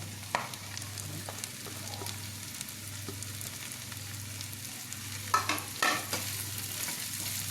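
Sliced onions for an egg roast frying and being stirred in a pan, a steady close sizzle broken by scraping stir strokes, with a few louder clatters near the end.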